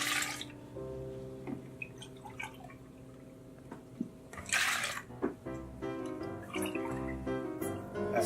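Milk pouring from a measuring cup into a larger bowl in a home kitchen, a soft liquid splashing and trickling heard close up amid light clinks, with no talk over it.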